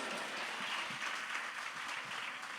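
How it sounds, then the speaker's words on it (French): Applause from a church congregation during a Sunday worship service, a soft, steady patter of many hands held at an even level throughout, distant and fairly faint. "on dit applaudissement."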